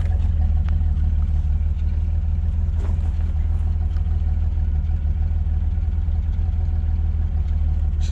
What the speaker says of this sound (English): There's a lot of smells coming out, and a few of them smell like fire, but it's idling.